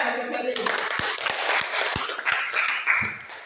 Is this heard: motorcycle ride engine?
no